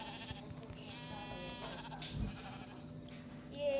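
Sheep bleat in Minecraft, a steady pixel-farm ambience with a short high bleat standing out near the end, while a person talks quietly over the game sounds.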